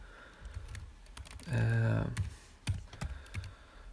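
Quick keystrokes tap on a computer keyboard in uneven bursts, near and fairly soft, while a voice hums and speaks briefly in the middle.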